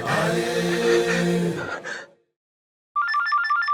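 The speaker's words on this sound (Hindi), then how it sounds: "अरे छटंगी मामा का ही फोन है।" A phone rings with an incoming call from Uncle Chhatangi, a steady electronic ringtone pattern starting after a pause that follows a stretch of talking and sighing.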